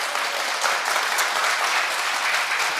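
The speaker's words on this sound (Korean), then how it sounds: "박수 한번 치실래요?" Audience applause at a political rally, a dense, steady wash of clapping from a large crowd, loud and continuous with no speech over it.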